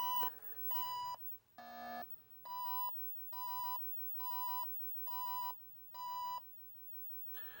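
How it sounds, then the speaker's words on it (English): Repeated beeps from an Atari Video Pinball CPU board running its self-test with a likely RAM error: about seven steady, loud electronic tones of even length in a regular rhythm, one shorter, lower buzzy tone among them, no talking. "Okay, getting some beeping. So that's when I flip the self-test, the beep start."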